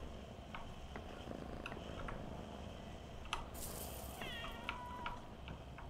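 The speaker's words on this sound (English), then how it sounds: "They put like fake kitty sound." Cat meowing in the video game Crime Scene Cleaner, a few short mews over a steady low hum of game ambience, moderately faint.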